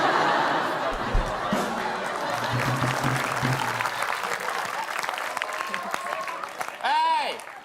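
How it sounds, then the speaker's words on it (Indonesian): Audience applause and laughter from a comedy show crowd, dense clapping that gradually thins out, with a few voices chattering near the end. "Hei, kalian jangan tepuk tangan dulu"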